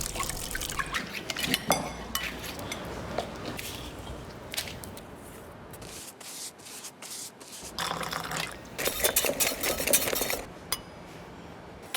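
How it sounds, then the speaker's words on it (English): Liquid nitrogen pours and hisses in bursts into ice cream amid clinking glass and metal, with a bubbling, steaming rush rising and falling over several seconds. "carefully and very slowly going to add the liquid nitrogen in"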